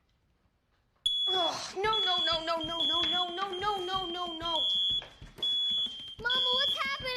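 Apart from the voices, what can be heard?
smoke detectors beeping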